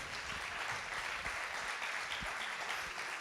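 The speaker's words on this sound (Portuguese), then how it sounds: "Um aplauso para ele." A church congregation applauds during a service, a dense, steady wash of clapping that carries at an even level throughout with no voices over it.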